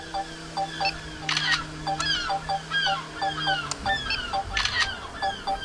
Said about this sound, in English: That seagull's not happy.